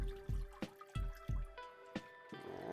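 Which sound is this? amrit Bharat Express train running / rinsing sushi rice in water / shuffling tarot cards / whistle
rinsing sushi rice in water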